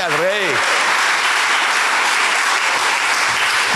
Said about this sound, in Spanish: Denle un aplauso bien fuerte al Rey.